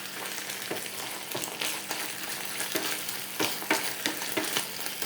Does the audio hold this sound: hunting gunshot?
no